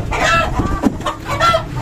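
Chickens and a rooster cluck busily at close range, their overlapping calls filling the short moment with no one talking.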